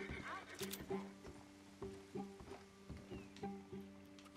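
Rhythmic hoofbeats clip-clop steadily at a walking pace with faint snorting, a horse in the video game Red Dead Redemption 2.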